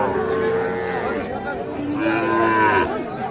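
A two-month-old calf moos loudly twice in long, drawn-out calls at a cattle market, with murmuring voices and crowd chatter of the busy market around it.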